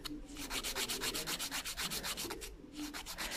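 A nail file rasps back and forth along the side of a gel nail tip in fast, regular strokes, close and fairly quiet, with a brief pause before the filing resumes.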